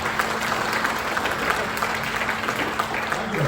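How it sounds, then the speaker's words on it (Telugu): An audience at an insurance agents' annual convention meeting in a hall claps steadily and continuously, a dense, even round of applause that starts to ease toward the end. "ఎఫర్ట్కి అండ్ ఇనిషియేటివ్ కోసం క్లాప్స్ అయితే కొట్టాను"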